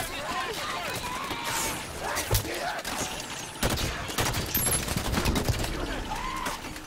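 Rapid turret gunfire in the Halo 5 video game, dense bursts of shots and impacts crackling steadily throughout, with voices calling out over the shooting.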